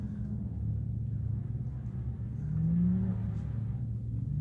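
A Can-Am side-by-side race vehicle in the St George 399 desert race prologue rumbles past, its engine a steady droning growl that swells to a louder peak midway before easing off.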